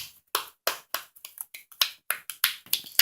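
Homemade borax and glue slime squished by hand close up, producing a rapid series of sharp wet pops and squelches in an uneven rhythm, with no talking.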